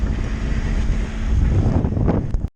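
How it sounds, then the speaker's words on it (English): Strong wind of about 17 knots roaring across a sailboat on Mobjack Bay, a loud continuous buffeting rush over the microphone with water wash that cuts off abruptly at the end. "So the wind's blowing 17 knots."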